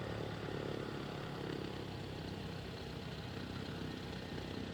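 A Cessna 152 piston engine idles just after start in Microsoft Flight Simulator 2020, a steady, even drone that holds at a constant level throughout.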